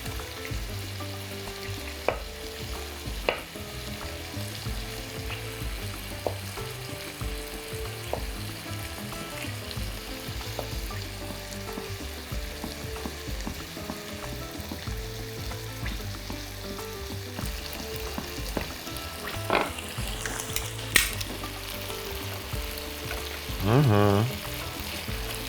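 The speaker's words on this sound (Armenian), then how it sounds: "Իսկ մինչ մսակտորները տապակվում են" Chicken breast pieces fry in a pan with a steady sizzle, broken by occasional stirring clicks and utensil knocks, and a louder burst of sizzling near the end.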